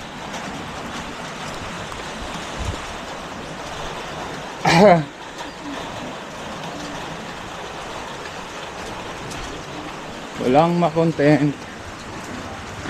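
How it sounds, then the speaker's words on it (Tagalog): Steady rain hisses throughout, dense and even, with two short bursts of voices breaking in partway through and near the end. "Lakas ang ulan."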